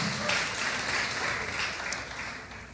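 A church congregation applauding together, a dense sustained wash of clapping from many hands that holds steady and tapers slightly at the end.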